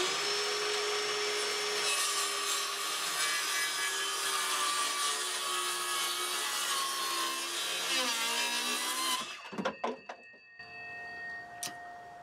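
Power saw cutting wood for a supply shelf in a rabbit enclosure, a loud continuous high whining buzz for about nine seconds, then winding down with a few clunks and knocks at the end.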